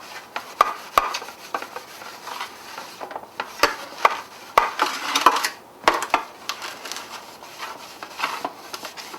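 Butter rubbed and scraped along the sides of a baking pan for date nut bars, making soft irregular swishes with a few sharp clicks of the utensil against the pan, close up and without talk.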